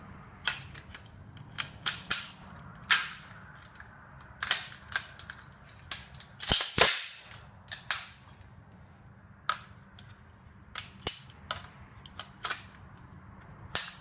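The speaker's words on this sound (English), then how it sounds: "Let's put on our lower receiver." A rifle's lower receiver is fitted to the upper receiver, producing a string of sharp metallic clicks and clacks at close range, irregularly spaced, with a louder cluster of snaps in the middle and no talking.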